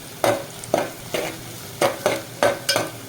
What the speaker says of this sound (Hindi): ये हम थोड़े से प्याज फ्राई करेंगे